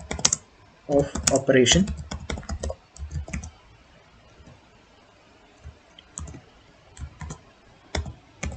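Code is typed on a computer keyboard in quick bursts of clicking keys separated by pauses, with someone talking briefly over the first flurry.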